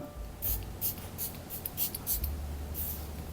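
A perfume bottle being sprayed, several quick airy hisses in a loose rhythm, close and fairly loud, with a soft low handling rustle underneath and no talk.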